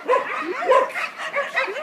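Several dogs bark and yip in quick, overlapping bursts at the Elephant Nature Park in Chiang Mai, home to about 400 dogs, fairly close, with excited whining mixed in and no talking.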